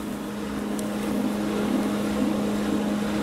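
A Magic Chef 0.9 cubic foot portable washer on its spin cycle, giving a steady, continuous motor hum with a low drone throughout and no pauses.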